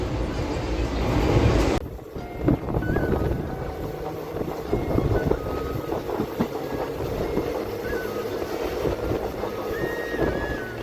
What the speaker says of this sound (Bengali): 2 মিনিট হল্টের পর আমাদের এই ট্রেন এখন মারিয়ানি জাংশন থেকে ডিপার্চার করে নিল।